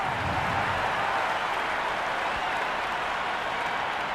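Cricket crowd at an India versus New Zealand T20 match cheers and applauds before play, a continuous, even roar of clapping and voices from a large stadium, with no talk over it.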